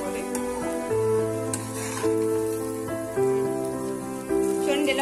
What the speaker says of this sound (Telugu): గుడ్లో ఉన్న నీ స్మెల్ పోయే వరకు కొంచెం ఫ్రై చేసుకోవాలి